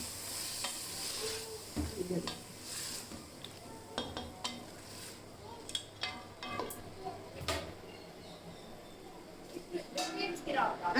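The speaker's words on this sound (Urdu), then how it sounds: "اب اس کو ہلاتے ہیں" Spices frying in oil in a pot for pulao biryani, with scattered scraping stirs, clinks of a spoon against the pot and a soft sizzle underneath, fairly quiet and close, with a voice speaking at times.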